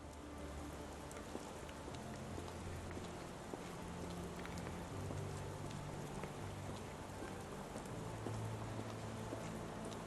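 Rain falls steadily on a video game street scene as a dense, continuous hiss of drops. It stays faint but even throughout, with a few low tonal notes drifting underneath and no talking.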